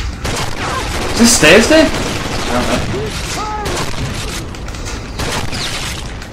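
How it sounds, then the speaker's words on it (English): Flashbang grenades burst in a Rainbow Six Vegas 2 co-op match, several loud sharp booms mixed with gunfire, while players talk over the action. "They're throwing flashbangs here anyway, so I want to leave."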